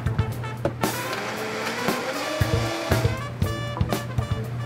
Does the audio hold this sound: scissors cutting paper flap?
no